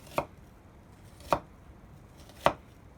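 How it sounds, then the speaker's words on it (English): A kitchen knife cuts incisions into an onion while dicing it, three crisp, evenly spaced chops close by with quiet between them. "I'm going to use the little lines as a guide now in the dicing of my onion"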